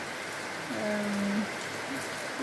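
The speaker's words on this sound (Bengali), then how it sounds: "লাগাতার বৃষ্টি হয়ে যাচ্ছে" Continuous rain falls in a steady, even hiss, with a brief tonal sound rising and fading partway through.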